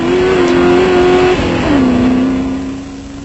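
Off-road race trucks, a Toyota Hilux and a Land Rover, racing at the 1995 Rustenburg 400 in South Africa; a loud steady engine drone shifts pitch midway and fades slightly as a vehicle moves off.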